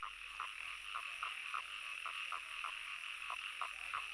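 Toads croaking at a pond in a repeated series of short calls roughly every third of a second, moderately near, over a steady background hum with no voices.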